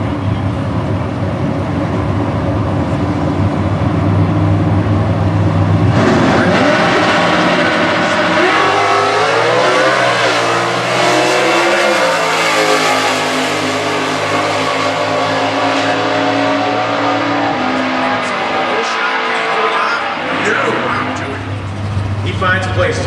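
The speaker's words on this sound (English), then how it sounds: "An LS-based 350 cubic inch engine." A stock class drag race car with an LS-based 350 cubic inch engine roars loudly at Indy, its pitch climbing through the run while an announcer talks over it.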